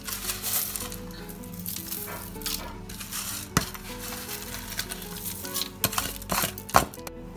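Onion frying in a biryani pot, a steady close sizzle with scraping stirs and a few sharp clinks of a spoon against the metal pot, with no voices.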